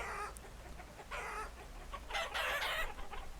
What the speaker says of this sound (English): Oh, we got 2 roosters now, it looks like.